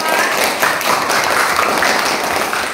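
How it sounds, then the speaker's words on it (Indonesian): A group of people applauding group 2 during an academic coaching and supervision session: dense, steady clapping that fills the room and holds without a break. "Kita beri aplaus dulu untuk kelompok"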